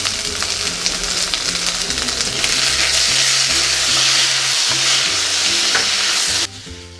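Onions with a tomato sautéing in a pan for a drumstick kuzhambu, a loud continuous sizzle with stirring scrapes throughout, cut off abruptly near the end.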